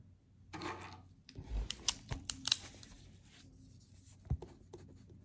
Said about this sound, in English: I'm actually going to write that down.